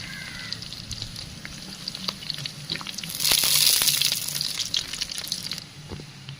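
Curry leaves and onions fry in a pan for a village-style chicken kuzhambu, a soft crackling sizzle with scattered pops that swells briefly midway, close and fairly quiet.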